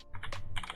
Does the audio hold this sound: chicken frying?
no